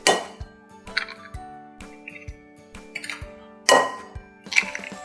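A whisk clinks against a bowl while beating an egg mixture for a zucchini quiche: sparse, irregular metallic taps with short ringing tones, close by and fairly quiet, with a couple of louder clatters.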